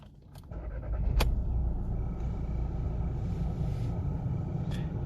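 A 2016 Volkswagen Polo Match 1.2 TSi DSG starts with a brief sharp crank, then settles into a steady low engine idle that continues close and constant.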